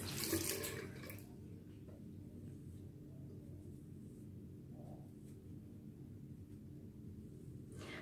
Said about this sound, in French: En remontant, vous rincez toujours vos éponges à l'eau tiède.